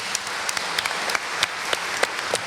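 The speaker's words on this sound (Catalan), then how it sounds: "Sí, un altre aplaudiment." Scattered applause from a small crowd, brisk individual claps pattering unevenly for a couple of seconds.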